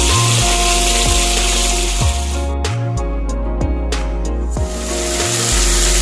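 Onion frying in hot oil with mustard seeds, curry leaves and chili, a steady loud sizzle and crackle throughout, with a few sharp scraping stirs of the pan.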